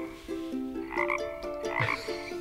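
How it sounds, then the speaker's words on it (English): A frog croaks in a quick series of rasping, throaty calls, close and fairly loud, with no voices present. "Yeah, frog, that's right."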